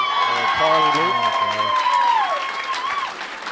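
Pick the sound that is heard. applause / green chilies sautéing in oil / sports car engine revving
applause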